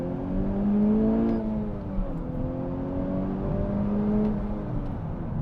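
2021 Honda Civic Type R engine pulling hard out of a corner, a close droning rise in revs that dips briefly as it shifts, then climbs again under steady road noise.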